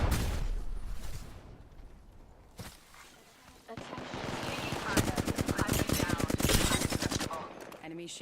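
Rapid bursts of automatic gunfire from a video game shooter fill the clip, loud dense volleys and repeated shots building toward the end, with a few scattered single shots earlier.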